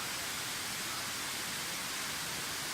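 A waterfall roars as a dense, even rush of broadband noise, close and constant for the whole stretch, with no voices over it.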